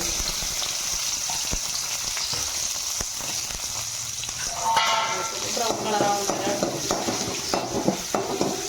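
Mustard seeds and chopped shallots frying in oil for a fish curry, a steady sizzle with popping crackles and the scrape of stirring growing busier toward the end, no voices.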